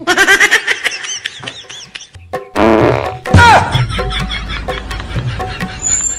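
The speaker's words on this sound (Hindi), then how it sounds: "काई के घर आके जो ना ऐसे पादरों भी गलत है" A loud comic fart sound effect sits among squeaky, bird-like novelty noises and snickering laughter, with voices talking over the playful sound bursts.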